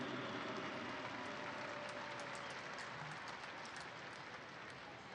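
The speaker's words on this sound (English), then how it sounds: "Fans, please give a warm round of applause for our game honoree." Steady, continuous applause from a large crowd at an Indy Eleven vs. Ottawa Fury FC soccer match, broad and even throughout, with no voices standing out above the clapping.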